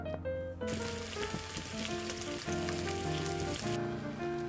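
Vegetables roasting over a fire in Bum Simulator give a steady crackling sizzle, like rain on a surface, under sustained musical tones from the game with no speech.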